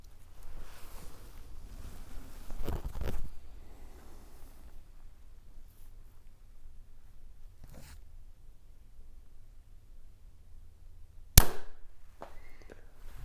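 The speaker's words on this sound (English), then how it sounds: "Let's shoot another one." A Hoyt Ventum 30 compound bow fires an arrow, giving one sharp, loud snap near the end, with a few softer handling knocks earlier and quiet in between.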